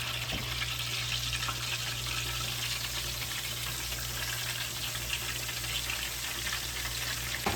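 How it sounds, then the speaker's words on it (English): Thin deer backstrap slices frying in hot grease on a stovetop, a continuous close crackling sizzle at steady level under a low hum, with no talking. "We're just frying backstrap here"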